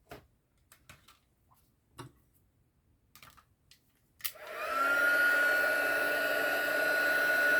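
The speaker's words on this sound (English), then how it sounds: "bring the heat tool up to temperature." A heat embossing tool used for papercraft die-cutting switches on after a few faint clicks and taps, then blows a steady, loud whirring rush of hot air with a high whine that holds to the end.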